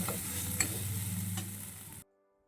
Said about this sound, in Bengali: মুড়ি বাটাটা দিয়ে দিলাম তেলের উপর। তো একটু নাড়াচাড়া করবো।